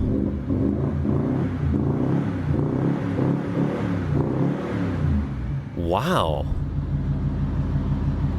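A Range Rover Sport diesel engine revs, a deep rumbling drone with a sharp rising rev near the end, heard under someone talking.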